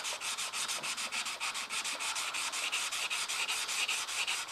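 Abrasive sanding smooths the flats of a steel knife blade, making a steady, loud, close rhythmic rasp of rapid back-and-forth strokes that runs continuously, alone, with no talk.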